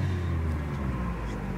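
A car passes on the road, heard from inside a moving vehicle on a road trip as a steady low rumble of road and engine noise that stays level throughout.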